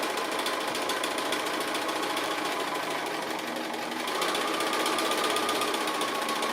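Sewing machine stitching appliqué on fabric, finishing a cake-stand design with a few locking stitches on top; steady, continuous whirring hum close by, unbroken for the whole stretch with no talking.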